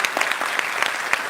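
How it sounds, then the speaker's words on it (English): Brief burst of audience applause at a startup networking event in Pune with a panel, dense steady clapping throughout the short stretch without talk. "Let's have a round of applause."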